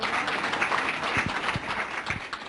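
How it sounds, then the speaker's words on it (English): Audience applause at an evening speaking event, a steady wash of many hands clapping with scattered sharper claps, moderately loud and continuous throughout. "If we can give a round of applause to him."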